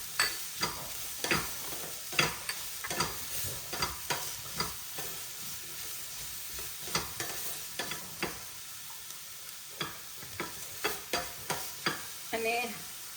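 Corn stirred in a hot frying pan for a broccoli pulao, with a steady sizzle underneath and repeated sharp spoon scrapes and clinks throughout.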